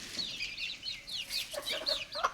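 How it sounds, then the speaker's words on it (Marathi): Hens and their well-grown chicks in a village farm enclosure, giving rapid high chirps and soft clucks in quick bursts, close by, with no talk. "इथे हे बघा पिल्लं किती मोठे मोठे झाले बघा या कोंबडीचे"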